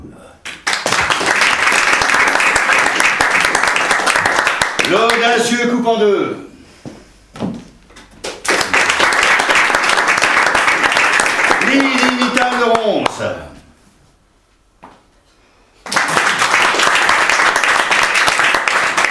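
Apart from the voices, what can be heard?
audience applause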